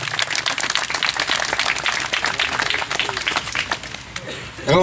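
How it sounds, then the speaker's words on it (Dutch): An audience applauds the youth council at a carnival season opening event, with dense, steady clapping from a crowd filling the whole stretch, loud and close, ending abruptly. "Mogen een applaus voor onze jeugdraad."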